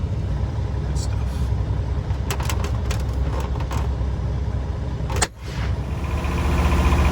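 A truck's auxiliary power unit runs with a steady, loud engine drone and a low rumble throughout, like a diesel generator idling nearby, with brief clicks and a short dip near the end.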